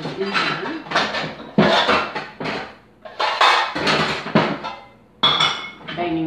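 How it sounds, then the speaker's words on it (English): Dishes, pots and pans bang and clink in bursts while someone rummages through a kitchen cupboard for a loaf pan, with loud, irregular clatters close by. "Banging dishes here."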